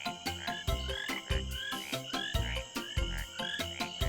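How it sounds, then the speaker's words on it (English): Green tree frogs croak in a steady, rapid rhythm, a dense chorus of repeated calls pulsing close and loud without pause. "green tree frogs are sometimes known as rain frogs"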